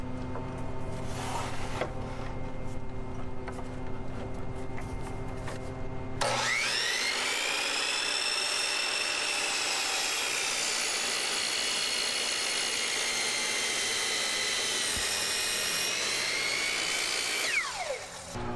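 A power saw cuts a western red cedar 4x4 post to length for a wooden garden arbor, a loud, sustained whine starting after a motor hum and running steadily to the end.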